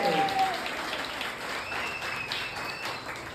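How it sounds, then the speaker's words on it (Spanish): A church congregation applauds the Lord during a Spanish-language service, a dense wash of clapping that holds steady for a few seconds, with a thin sustained tone over it. "Si usted va a aplaudir, si usted aplaude al Señor, por favor, hágalo fuerte."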